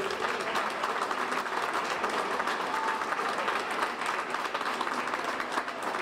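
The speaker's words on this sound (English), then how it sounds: "Round of applause for that." A crowd applauds steadily, dense clapping sustained at a consistent loudness throughout.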